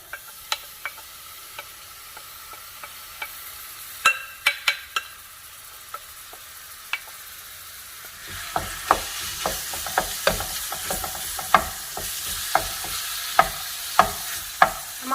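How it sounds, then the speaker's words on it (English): Marinated pork fries in a little cooking oil in a preheated pan, a soft sizzle that swells louder partway through, punctuated by sharp clicks and scrapes of stirring. "here I'm preheating my pan, a little bit of cooking oil. I'm gonna go in with my marinated pork."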